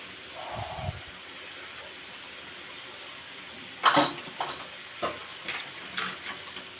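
A bay leaf is stirred in a frying pan, giving a faint sizzle with a soft low bump early on, then a run of light scraping and clinking taps near the end.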